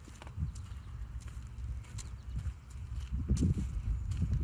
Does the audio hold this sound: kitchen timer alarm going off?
no